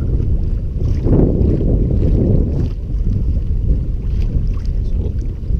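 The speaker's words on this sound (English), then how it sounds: "Probably about a 10 mile an hour wind if I'm betting." Steady wind buffeting and light water chop around a 2017 Manta Ray Propel 12 fishing kayak out on open water in roughly a 10 mph breeze, a constant close rumble of wind noise with lapping water and no talking.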